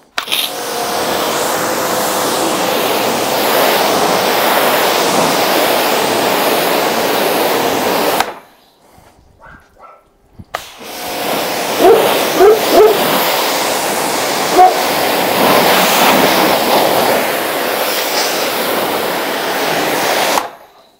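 High-pressure water spray hisses steadily across a car hood, rinsing off a freshly applied nano wax, loud and close, stopping briefly and then resuming in a continuous rushing stream.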